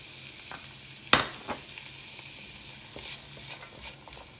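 Mixed vegetables, including pumpkin, stirred in a kadai, a close frying sizzle with one sharp clack of a spoon striking the rim, then softer scrapes and continued sizzling, with no voices.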